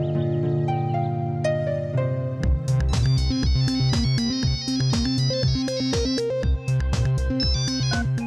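A melodic electronic ringtone plays loudly, opening with sustained tones before a bright, rhythmic, chiming tune takes over.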